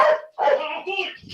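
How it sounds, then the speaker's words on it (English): A dog barks in a few loud, close bursts, with a short gap between the first bark and the next run of yelping barks. "why don't he hear this dog?"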